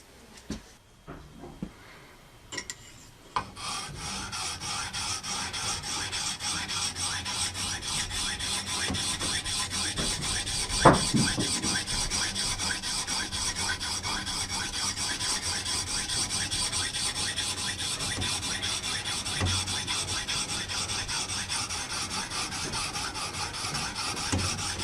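Steady rasping of files being drawn along an axe blade, a continuous scraping rhythm that runs nearly unbroken after a few scattered clicks and handling knocks at the start, with one sharper clink midway.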